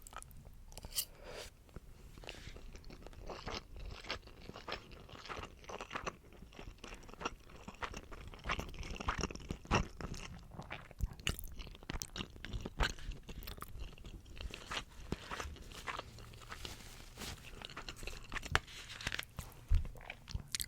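Someone eating a poke bowl up close, with irregular crunches, bites and wet chewing sounds repeating throughout, quiet and intimate with no talking.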